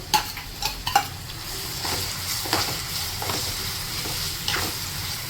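Coarsely ground onion paste, for a red bean curry, hisses and sizzles steadily in a hot pan, with a few scraping stirs and clinks near the start.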